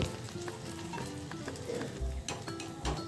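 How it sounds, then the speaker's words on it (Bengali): Palm fruit pitha fritters frying in hot oil, a steady close sizzle with occasional stirring clinks and soft thuds from the pan, no voices. "সমস্ত পিঠেগুলো এইভাবেই ভেজে নেব"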